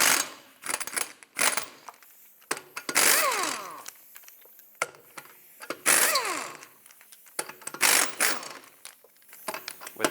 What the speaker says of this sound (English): Let's remove this wheel, 19mm socket, take off all 5 of your lug nuts.